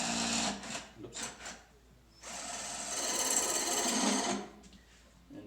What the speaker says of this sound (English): So all I did was chuck it into my drill here, and now I'm just going to turn it.